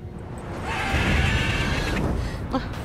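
A mare in The Witcher 3 video game gives a single strained whinny lasting about a second, heard over a dense bed of game ambience and background sound.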